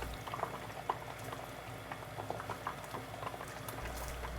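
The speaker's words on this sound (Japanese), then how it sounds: "ハンバーグをコトコト煮込んでソースを煮詰めていく。" A hamburg steak simmers gently in sauce, with a steady bubbling and soft popping that stays close and even the whole time, and no voices.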